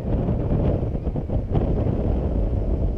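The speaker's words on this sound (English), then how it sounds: "You probably won't hear what I'm saying at the top, so I won't say much because it gets quite windy." Strong wind on a Pterodactyl ride at Flamingo Land, blowing around 26 mph, roars steadily and loudly across the microphone with no voices.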